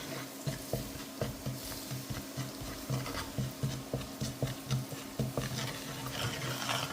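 Turmeric and salt stirred together in a cooking pot, a soft rhythmic scraping and tapping of a spoon repeating at a steady pace, close and fairly quiet.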